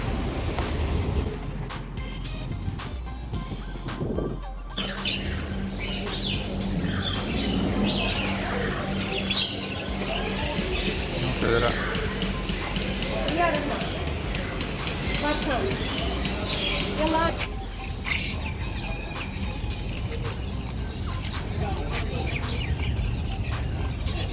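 Many caged birds at a bird shop in Kuwait chirping and tweeting in a busy mix, with a person talking over the chatter.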